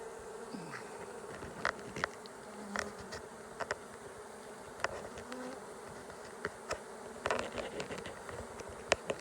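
Honeybees buzz around exposed combs during a hive trap-out, a dense, steady hum of many insects nearby with individual bees zipping close past at intervals.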